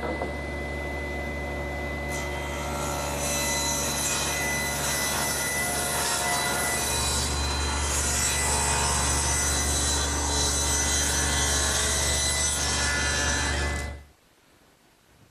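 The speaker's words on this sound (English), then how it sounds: "So I've set up my table saw, tilting the blade to 10 degrees and setting the rip fence." A table saw with its blade tilted to 10 degrees bevels wooden fence stringers, running loud and continuous with a steady motor drone and cutting whine for about fourteen seconds before stopping.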